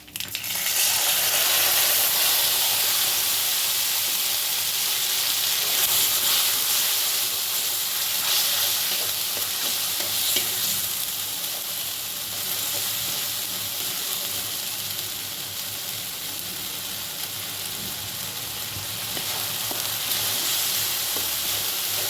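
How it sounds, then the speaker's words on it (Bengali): Ginger paste with bay leaf sautéing in a hot pan, a dense continuous sizzle and hiss with occasional stirring scrapes, loud and close with no talking. "আদাটা একটু ভালো করে কষিয়ে নেব।"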